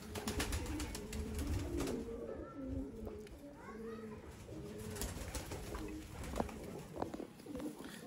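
Golden pigeons cooing in Sialkot during pigeon keeping: repeated low, soft coos in a steady rhythm close by, over faint background voices and ambient noise.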